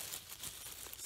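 A thin plastic CVS shopping bag crinkles and rustles in short, close-up bursts, with crisp crackling textures scattered across a brief moment, no voices present.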